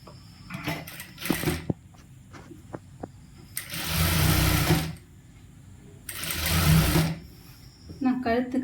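A sewing machine stitches a hand design on a churidar in a tailoring shop, running in two distinct bursts of about a second each, with someone talking between them.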